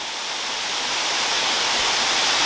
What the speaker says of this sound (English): So this is the highest waterfall in all the Fundy National Park,